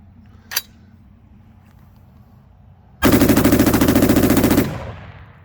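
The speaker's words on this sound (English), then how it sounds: "fixing to send some rounds down range" A Palmetto State Armory 10.5 inch AR pistol with an Alamo 15 trigger and a Gamma VG6 muzzle brake fires once, then after a pause lets off a very fast, loud string of shots lasting about a second and a half, then echoes.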